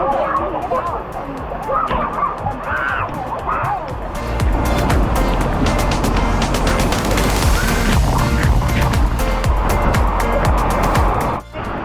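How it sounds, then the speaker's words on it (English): A waterfall beside a lazy river at a Florida marine park roars with a broad, continuous rushing wash that swells louder midway, while people talk over it in the first seconds. "there's a waterfall back here"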